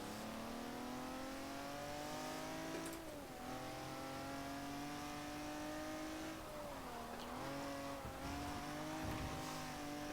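Vintage Ferrari race car engine on a track, a continuous loud howl rising and dipping in pitch with gear shifts and lifts, heard from inside the car with some rattling.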